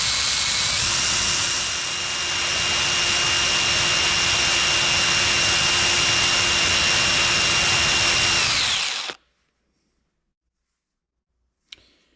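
A power grinder works on an engine valve from a John Deere STX38 lawn tractor, giving a loud, steady high whine with a constant tone for about nine seconds, then cutting off into near silence with one brief click near the end.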